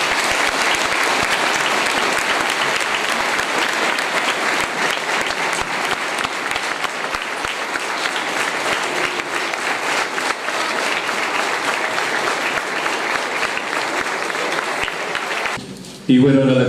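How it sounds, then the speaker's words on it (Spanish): Sustained, loud audience applause for guests at an event about the Malvinas Islands sovereignty cause, steady dense clapping for about fifteen seconds before stopping abruptly, with crowd voices mixed in. "Por lo tanto, pido un fuerte aplauso para ellos."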